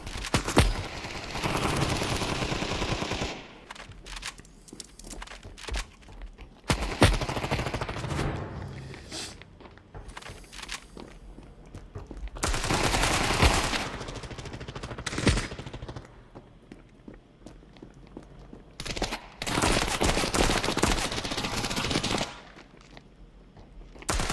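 Gunfire in the mobile shooter Standoff 2: repeated bursts of automatic fire and single shots, loud and close, separated by quieter gaps with faint game ambience.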